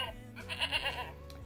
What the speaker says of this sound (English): it makes the different animal sounds. Yes, that's a goat.